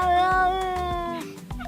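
A cat gives a close, loud, drawn-out meow that slowly falls in pitch and fades, with a few soft low thumps behind it.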